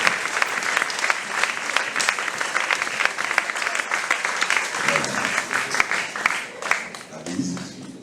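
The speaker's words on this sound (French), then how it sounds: "On applaudit jusqu'à ce qu'on ait ça." Sustained applause from an audience, dense and steady clapping that fades slightly near the end.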